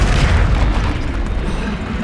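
A Confringo spell explodes in the video game Hogwarts Legacy, a loud, dense fiery blast that roars steadily across the whole moment, with no voice over it.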